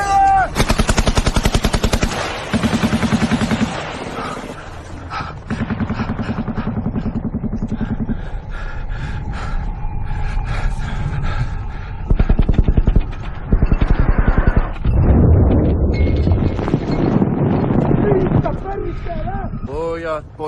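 Heavy gunfire crackles through a war film battle scene, with bursts of rapid shots and explosions, loud and close, while soldiers shout in Finnish over the din.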